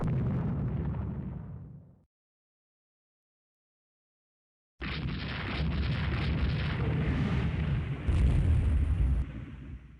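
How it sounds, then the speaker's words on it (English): Naval gunfire from warships firing on the carrier Yorktown in the naval strategy game Rule the Waves 2: a loud booming blast, then silence, then a long sustained rumble of fire and explosions building near the end. "And we fire on the Yorktown"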